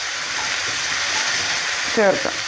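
About a quarter kilo of onions sautéing in a pan for a Kerala-style onion curry, a close, steady sizzle with a brief stir or clatter near the end.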